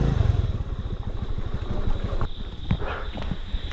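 A motorcycle engine runs steadily and fairly close on a day out around Dharan, with a few clattering knocks over the continuous low rumble.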